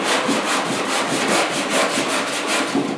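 Hand sanding with 80-grit sandpaper on the tailgate of a 1972 Ford 4x4 short-box truck, a close, loud, steady back-and-forth rasping in quick regular strokes, with no talking.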